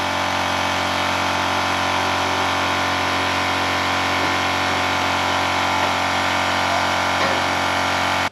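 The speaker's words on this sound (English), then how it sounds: "once you turn the air compressor on" A Black Ridge shed air compressor runs steadily while filling its tank, giving a loud, constant motor drone with a dense hum that holds unchanged throughout, without speech.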